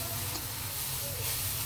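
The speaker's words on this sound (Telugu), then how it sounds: "కొంచెం ఇలా లైట్గా వేయించేస్తే సరిపోతుందండి, ఆ క్యారెట్ పచ్చిదనం పోయే వరకును చాలు" Carrots frying lightly in ghee in a pan for a carrot sabudana payasam: a soft, continuous sizzle and hiss, close and fairly quiet, with no talk.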